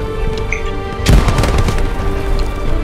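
A grenade explodes in the World War II shooter Hell Let Loose, a sudden loud boom that breaks over steady battlefield noise with scattered gunfire and rumble, and the din stays heavy afterward.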